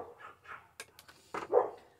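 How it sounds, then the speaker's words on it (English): Dogs barking in a few scattered, mid-distance bursts, the loudest yips near the end, with quiet gaps between. "these dogs been wild the last couple of days"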